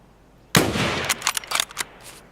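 A burst of video game gunfire rings out: one loud sharp shot followed by a rapid ragged string of several more cracks, close and prominent over near silence.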